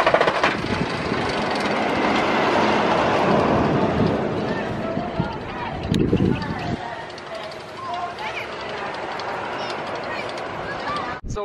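A Superman roller coaster train rumbles and clatters along its track at Six Flags America, a dense continuous roar with a louder mechanical burst midway, heard amid crowd noise and people talking.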